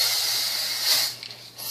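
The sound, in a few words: hairspray sprayed onto hair while styling victory rolls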